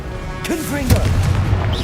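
A Confringo blasting spell in a Harry Potter-style video game bursts into a loud, close boom with whooshing, swooping tones and a rumbling tail.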